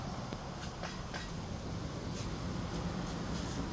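An Amtrak Capitol Corridor passenger train rushes past at speed, a steady broad roar of rolling wheels and air heard from trackside at moderate distance with no talking.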